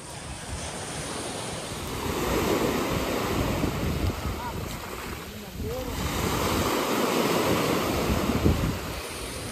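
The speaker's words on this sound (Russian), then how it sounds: "Море успокаивает, да?" Waves wash onto a crowded municipal beach in Sochi in a steady, close surf roar with wind in the background and faint voices now and then.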